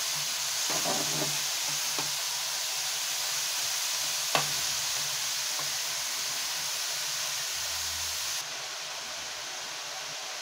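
Crushed carrots for gajar halwa sizzle steadily in a pan, with a few sharp spoon scrapes and knocks as they are stirred; the frying hiss stays continuous and close throughout, with no talking.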